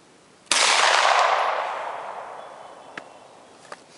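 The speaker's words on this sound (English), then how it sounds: "shot his first gun" A single loud gunshot from someone firing a gun for the first time cracks sharply nearby, then a long broad echo decays over several seconds, followed by a couple of faint clicks.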